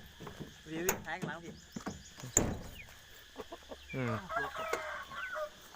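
A new breeding fighting rooster and other chickens, with repeated clucking and a loud rooster call midway, the birds close and busy, while people talk over and between them.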